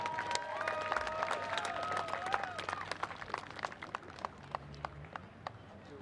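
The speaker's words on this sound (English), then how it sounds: "One last round of applause for Jordan Burwell." Applause at a high school football senior night ceremony: scattered hand claps from a crowd, dense at first and thinning into separate claps, with faint voices and cheers in the background.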